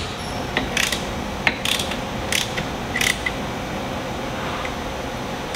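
Bolts on a Polaris RZR motor plate are tightened with a ratchet, giving several short bursts of rapid clicking in a steady rhythm, close by over a constant background hum.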